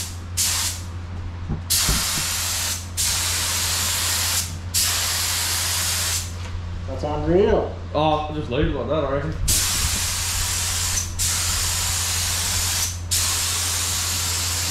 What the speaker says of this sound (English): that's spraying beautifully